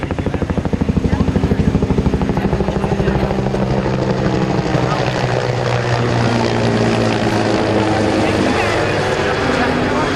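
Military helicopters departing en masse at Rotorfest, including Pennsylvania Army National Guard aircraft, loud, close rotor thumping and turbine whine sustained throughout, with a strong rhythmic blade beat early on and a public-address voice talking over it.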